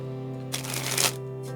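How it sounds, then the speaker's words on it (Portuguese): A deck of playing cards is riffle-shuffled by a magician, a single quick burst of fluttering paper clicks lasting about half a second over a steady background hum. "Até hoje eu gosto de movimentar as cartas"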